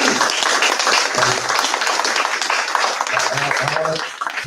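Audience applause at a youth justice forum swells as a loud, continuous patter of many hands clapping, with voices rising through it before it fades near the end.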